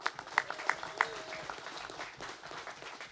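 Scattered applause at a bare knuckle fighting press conference, a handful of sharp individual claps over a softer patter that fades out.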